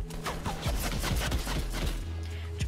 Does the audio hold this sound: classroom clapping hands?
no